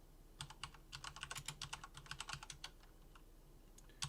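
Quick bursts of clicking keystrokes on a computer keyboard as commands are typed into a terminal, close and fairly quiet, with short pauses between runs of keys and no talking.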